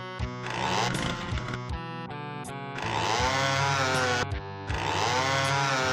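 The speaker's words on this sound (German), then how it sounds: "Kettensägen-Bug, der nur dann den langen Sound spielt, wenn man von Kettensäge auf Pistole wechselt" Chainsaw in Doom II revving with a glitched, extended sound while the player switches weapons, a loud buzzing drone that cuts in and out in several bursts over dense game audio.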